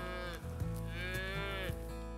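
Red Angus cattle on a hillside ranch near Mount Diablo give a long, loud, close moo with a rising, drawn-out harmonic tone, the only sound present.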